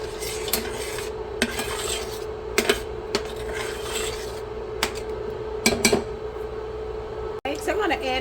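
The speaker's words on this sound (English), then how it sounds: "Let's give it a good stir." Smothered pork chops, slow cooked, being stirred in a pot: a spoon scrapes and clinks against the pot in scattered, close knocks over a steady low hum.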